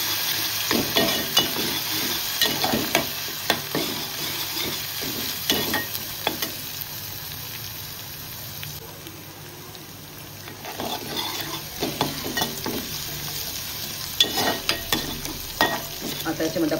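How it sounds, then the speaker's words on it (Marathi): A ginger, garlic, green chili and coriander paste fries and is stirred in a pan, giving a continuous sizzle broken by repeated spatula scrapes and clinks, with no one talking. "अद्रक, लसूण, मिरची, कोथिंबीरची पेस्ट व्यवस्थित मिक्स करून घेऊया।"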